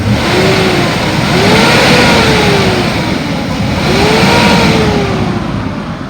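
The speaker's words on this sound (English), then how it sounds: "I'm gonna rev it up so you can hear it." A 2011 Ford F-250 XL utility truck engine revs loudly and close up in two long swells, rising and falling over a continuous rumble, with no voices.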